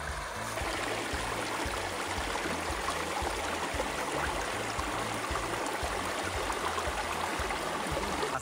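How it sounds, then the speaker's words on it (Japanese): A clear stream flows through a national park forest in Thailand, its steady broadband rush and trickle continuous and close throughout, with no voices. "こんな感じの綺麗な川がね流れております"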